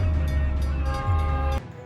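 A train rumbles loudly past a car stopped on a railway crossing, a steady low roar lasting nearly two seconds before cutting off abruptly near the end.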